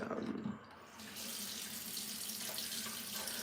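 Water runs from a bathroom tap to wet a face, a steady close gushing stream that briefly drops in force then resumes full and continuous.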